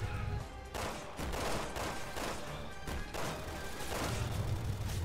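Gunfire in the video game Resident Evil 6, a loud dense volley of shots in several bursts separated by brief lulls, with no speech over it.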